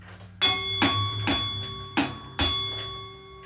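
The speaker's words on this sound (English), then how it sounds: "you've got Christmas bells. Oh yeah, got the little beater here." Christmas bells on a homemade noisebox struck with a small beater, five bright ringing strikes in an uneven rhythm, each sharp onset decaying into a sustained metallic shimmer, close and loud.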